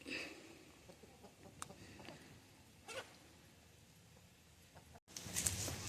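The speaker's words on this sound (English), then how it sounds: "Beautiful birds." Homestead chickens cluck faintly and intermittently in an outdoor yard, soft scattered calls over quiet background, with a brief louder burst near the end.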